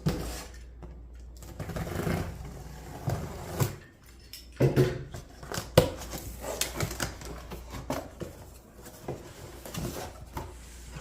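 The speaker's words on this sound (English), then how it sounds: "let's go ahead and open the box." Cardboard rustles, scrapes and flaps thump close by as the box of a Canon PIXMA TS7720 printer is opened, with irregular handling noises, taps and tearing throughout and no talking.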